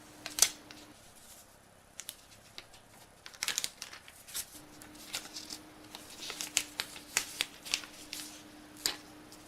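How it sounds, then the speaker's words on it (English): Plastic protective film peeled off a brand-new Google Pixel phone, giving close, crinkly crackles and short rustling bursts that come in irregular spurts with no talking. "I'll just take off the plastic."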